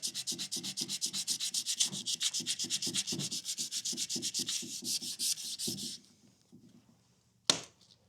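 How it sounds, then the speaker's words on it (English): A knife blade being hand sanded with sandpaper wetted with Windex, a fast steady back-and-forth rasping rhythm up close that stops, followed by a single brief knock. "You see how my sandpaper is not loading up as bad because I use the Windex."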